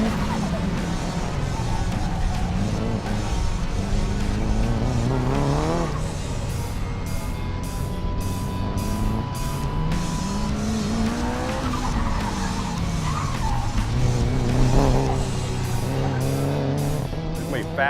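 A race car at a Circuit of the Americas autocross drives hard through a wide uphill slalom, its engine note rising and falling steadily under constant loud noise, with tire squeal and a voice talking over it.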